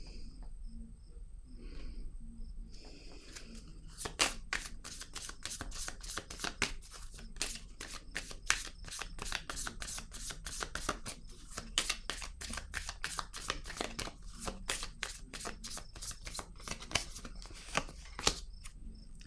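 Cards are shuffled by hand close by, a quiet, rapid flutter of crisp clicks running on steadily after a brief near-silent start.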